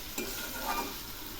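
Spices frying in oil for Bengali aloo dum, a brief close sizzle with one or two quick stirring scrapes in the pan, fairly quiet and with no speech.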